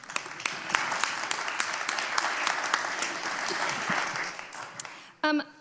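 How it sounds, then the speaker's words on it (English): Symposium attendees give a warm round of applause for a tech policy journalist, many hands clapping steadily with sharp individual claps standing out, before a speaking voice cuts in at the end. "A round of applause for him."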